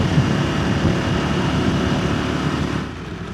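A KTM 890 Adventure motorcycle on Mitas Enduro Trail+ tyres rides along with a steady, loud broadband rumble of engine and wind that holds evenly throughout and eases slightly near the end, with no talking.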